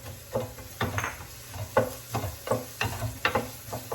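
Onions going into a pan for a spinach and cheese stuffed chicken breast recipe, heard as a quick run of clinks and scrapes from stirring against the pan over a faint sizzle.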